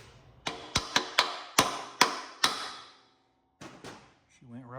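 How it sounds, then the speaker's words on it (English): Sharp hammer taps drive a part up onto a vintage Sensation commercial mower during a Predator engine swap, seven crisp knocks in an uneven rhythm, close and loud, then a pause before two more taps and a brief voice. "I don't know how hard that's going to be to tap up on there."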